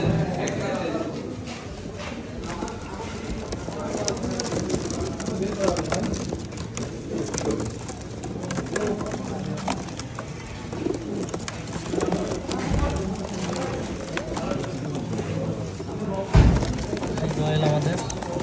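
Imported Royal Teddy pigeons coo softly and repeatedly in a loft, with someone talking over them, some rustling and an occasional bump.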